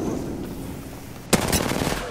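Gunfire from a squad-based battle royale video game: a sudden loud burst of rapid automatic shots erupts after a stretch of low background noise, cracking sharply then trailing into continued rattling.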